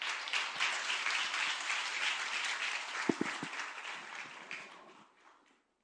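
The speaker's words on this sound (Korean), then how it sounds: "다시 한번 또 박수로 환영해 주기" A church congregation applauds to welcome a guest speaker for the final talk of a gathering: dense, sustained clapping from a full room that holds steady for about five seconds, then thins and fades out.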